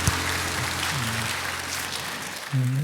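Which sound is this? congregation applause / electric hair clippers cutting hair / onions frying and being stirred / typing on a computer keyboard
congregation applause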